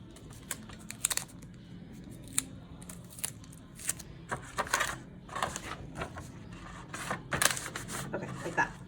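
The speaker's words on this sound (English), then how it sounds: "let me get this tape going" Tape being pulled off a roll and pressed down while making a paper cow mask, a run of sharp tearing rips and crinkly taps scattered through fairly quiet surroundings, with no talking.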